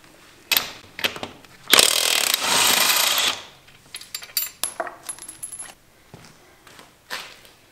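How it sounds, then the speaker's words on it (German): Close mechanical clatter and bursts of an impact or ratchet tool as a 22 mm socket loosens the rear axle nut on a Yamaha XJ6 motorcycle in a home workshop. A sustained loud burst is followed by lighter clicks and clinks. "Als nächstes die Achsmutter mit einer 22er Nuss abschrauben."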